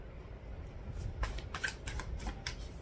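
Tarot cards are shuffled by hand in a quiet room, making a series of quick papery riffles and flutters in short bursts, close and fairly soft.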